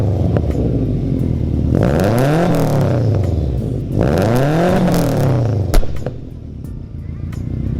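A Subaru WRX STI fitted with a Perrin intake revs twice, each rising and falling in a loud, close engine roar over a steady idle.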